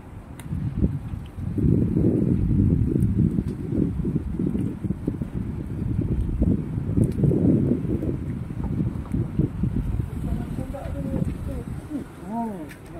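Steady low wind roar fills the recording, rumbling against the microphone at a fishing jetty, with faint background sounds near the end.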